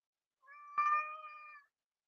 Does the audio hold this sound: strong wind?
no